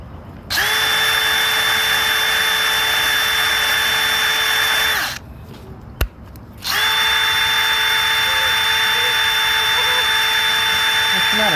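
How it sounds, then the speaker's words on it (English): A power drill running with a replacement bit after DeWalt bits failed to cut, a loud steady high whine held for about five seconds, a brief pause with a click, then another long sustained run. "we're going to try a different bit because my DeWalt bits weren't cutting it."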